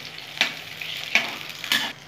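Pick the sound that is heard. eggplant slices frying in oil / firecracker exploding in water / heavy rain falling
eggplant slices frying in oil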